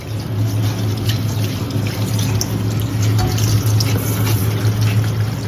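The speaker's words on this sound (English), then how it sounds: "they will need a little bit of a wash" Cabbage leaves rinsed under a running kitchen tap, a steady loud rush of water splashing into a sink, close and continuous with no speech.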